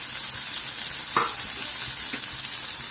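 Finely chopped tender spring onion greens hit hot oil and sizzle steadily, with a couple of brief stirring clatters breaking through the continuous hiss; no one speaks.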